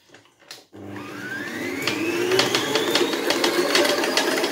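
A stand mixer kneads brioche dough at a higher speed, a steady motor whine that rises in pitch as it spins up, with faint rhythmic knocking from the dough against the bowl, close and continuous after a brief quiet start.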